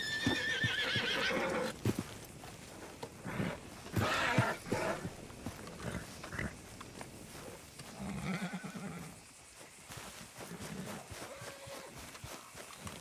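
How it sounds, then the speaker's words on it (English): A horse in the video game Red Dead Redemption 2 whinnies loudly near the start, then hooves clip-clop in a loose rhythm with further snorts and game sounds, no speech. "That's one beautiful horse"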